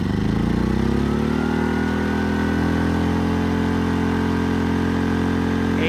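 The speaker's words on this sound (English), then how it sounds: "Now we're going to put a load on it, keep an eye on the voltmeter, and we'll hear this thing rev up." A Westinghouse iGen 2000 inverter generator revs up as a 1500-watt load is applied, its steady engine drone climbing in pitch and then holding at a loud, even level.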